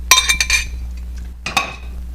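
A fork stirring eggs in a dish for poultry stuffing, a few quick close clinks of metal on the bowl, a short pause, then another brief burst of clinking.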